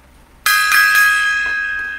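A single gong or bell is struck once, loud and close, its bright metallic tone ringing on and slowly decaying with no talk.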